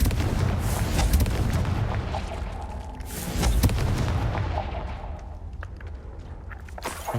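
Confringo fire spell explosions in Hogwarts Legacy, a dense run of loud booming blasts and bursts with crackling debris, one big impact near the middle and the rumble thinning out toward the end, no talking.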